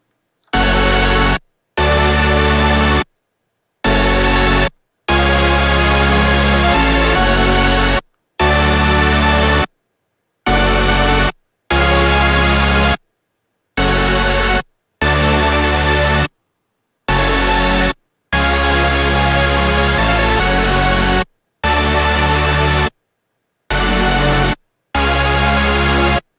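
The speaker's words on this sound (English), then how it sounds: "I'm going to play you pattern 1 and pattern 2, which is FL Studio and Serum" Melodic dubstep chords built in FL Studio with the Harmor and Serum synths: loud, thick sustained chord hits that repeat in blocks, each followed by a short silence, with nothing else playing.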